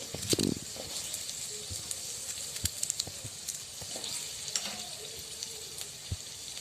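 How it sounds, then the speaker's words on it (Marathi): Chopped onions fry in oil in a pan, a steady close sizzle with soft stirring scrapes and occasional louder crackles, and no one speaks. "थोडा तेलात परतून घेऊया"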